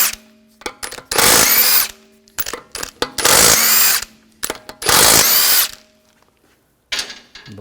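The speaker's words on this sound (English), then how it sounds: "Using a 17mm socket, take the lug bolts off." A power tool with a 17mm socket spins lug bolts off the wheel of a 2004–2009 Audi A4 Quattro in three loud, whirring bursts of one to two seconds each, separated by short clicks and quiet gaps.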